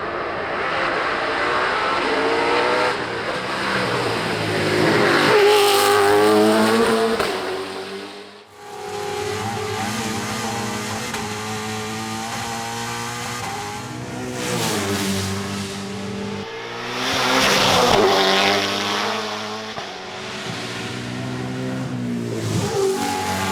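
A touring race car at the Goodwood Festival of Speed roars past in hard acceleration, its engine climbing through several gear changes, swelling loudly and fading as it pulls away, then returning with further screaming runs.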